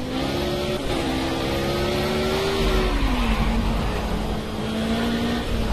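A V8 engine of an Ariel Atom 500 in a racing video game revs steadily and loudly, its pitch holding high then dipping and climbing again, close and continuous with no talk.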